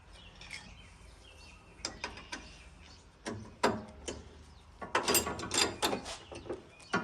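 A hand wrench turns a bolt on a BMW F10 M5, giving a run of close, quiet metallic clicks and scrapes in uneven bursts.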